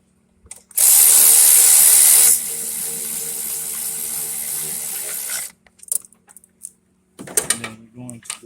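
A ratchet tightens bolts on the throttle body of a 2003 Trailblazer LS 4.2L. A loud, close, continuous mechanical whirr runs for several seconds, then gives way to scattered clanks and handling noises.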